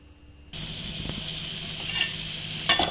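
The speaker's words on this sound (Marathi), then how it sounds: "हे मी कढईमध्येच गरम करून घेते पोहे." Poha is stirred and heated in a kadhai, a soft steady sizzle and hiss with light scraping of the spoon against the pan, quiet and close.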